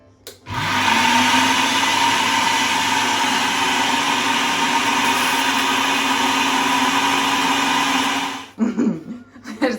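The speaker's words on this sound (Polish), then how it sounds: "będziemy to powoli wlewać do blendera" A blender runs loudly and steadily for about eight seconds with a constant motor whine, then winds down to clatter.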